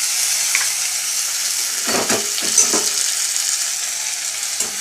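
Tomato and onion fry together in oil in a pan, a steady, close hiss of sizzling with a short burst of stirring scrapes and clatter near the middle.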